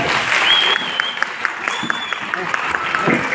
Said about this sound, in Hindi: उस परमात्मा के लिए एक बार जोरदार ताली से स्वागत करें